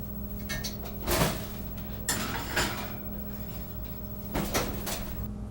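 A hot oven door handled after popovers go in at 450 degrees, a few close clunks and metallic knocks spaced across a quiet kitchen background, with no talking.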